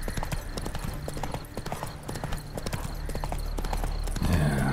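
Roach the horse gallops in The Witcher 3: Wild Hunt, a steady run of close, rhythmic hoofbeats over the outdoor ambience, with a brief swell of louder movement near the end.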